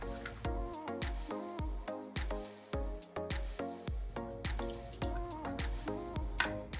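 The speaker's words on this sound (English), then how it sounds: "I'm gonna put those in here and then whisk those eggs up" Four eggs whisked in a bowl for a ham and cheese quiche, giving a fast, steady run of close clicking strokes against the bowl with no talking.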